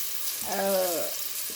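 Steady hiss of anchovies frying in hot oil, a continuous sizzle throughout with a brief voice-like tone rising over it in the middle.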